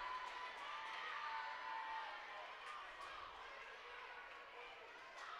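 Home crowd at a girls' high school basketball division final, Bacon Academy against New London, roars and cheers in a gym, a broad sustained wash of shouting and chatter that swells early and then eases slightly.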